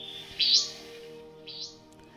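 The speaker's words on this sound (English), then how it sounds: "There's the call of paperbark flycatcher." A paperbark flycatcher gives two bright, rising whistled calls, the first louder than the second, over a steady low hum.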